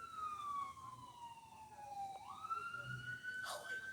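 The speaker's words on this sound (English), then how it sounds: "I hear another siren." A fire department or ambulance siren wails from a distance at an emergency scene, a faint rising and falling tone sweeping down then up, with a brief burst of street noise near the end.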